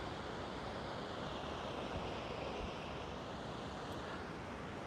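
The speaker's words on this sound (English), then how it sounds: "take in the sound of the ocean" Ocean waves washing steadily along the shore, a soft continuous surf hiss with light wind, distant and even throughout with no voices.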